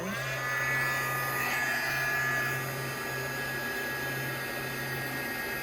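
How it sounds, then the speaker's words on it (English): A small electric dryer hums and whirs steadily at close range while drying paint, a continuous motorized blowing sound with a high whine. "Now I'm going to bring my little dryer in just for this edge."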